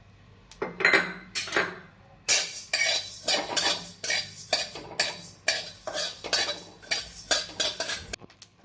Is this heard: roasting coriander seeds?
yes